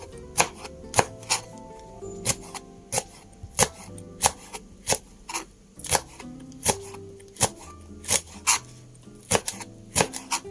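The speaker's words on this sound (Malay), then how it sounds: "seterusnya kita hiris lada hijau ni" Green chili peppers sliced with a knife on a board, giving a steady run of sharp, close chops roughly every half second over quiet background sounds.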